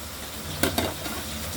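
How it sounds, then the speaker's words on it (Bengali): Pabda fish shallow-frying lightly in hot oil in a pan, a steady close sizzle with two brief louder crackles near the middle, no voices. "মাছটা আপাতত ভাজা করে নেই হালকা ভাজা হালকা ভাজা"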